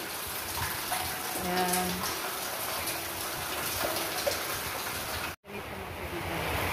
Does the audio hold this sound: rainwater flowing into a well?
yes